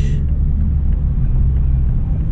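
A 2020 Toyota Supra cruising on the freeway in normal driving mode, giving a low, smooth, continuous engine and road rumble from inside the cabin, fairly quiet and steady, with no talking.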